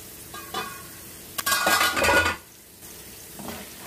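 A metal lid lifted off a cooking pot of karunai kilangu (elephant yam) simmering on low heat: a sharp clink followed by a brief burst of hissing steam and clatter, then quiet.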